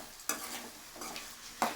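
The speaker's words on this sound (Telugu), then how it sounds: "చూడండి, ఇలా వేగుతున్నాయి కదా." Okra (lady finger) frying in a pan, with soft sizzling under a few distinct stirring scrapes of a spoon against the pan, close and fairly quiet.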